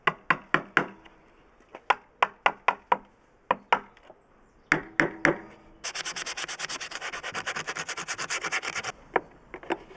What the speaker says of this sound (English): You can just chisel out the corners now.